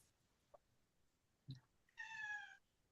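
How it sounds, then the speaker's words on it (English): A cat gives a single drawn-out meow, faint and somewhat distant over a quiet background, preceded by a couple of small knocks. "I hear a cat."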